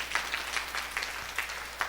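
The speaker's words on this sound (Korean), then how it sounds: "이렇게 큰 박수 한번 해주시기 바랍니다" Church congregation clapping at a Wednesday evening service, a light, thin patter of hands with brief louder bursts, fairly quiet and without voices.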